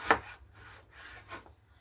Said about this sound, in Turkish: Ve şimdi patatesleri de doğrama işlemine geçelim.